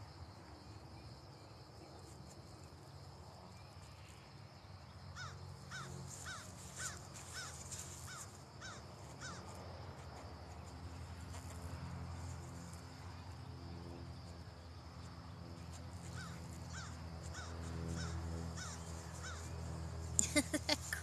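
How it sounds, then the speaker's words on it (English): Crows caw repeatedly in an outdoor park, a series of harsh calls in rhythmic bursts at moderate distance over steady insect chirring and low background rumble. "Crow is talking."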